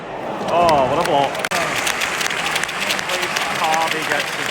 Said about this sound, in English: gets his applause